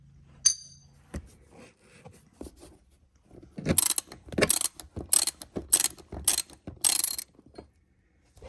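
Screws being removed from a third-row jump seat bracket in a 2013 Tesla Model S, heard as a quick series of clicking ratchet strokes and metallic clinks, close and fairly quiet, with no talk.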